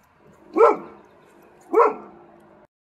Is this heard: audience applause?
no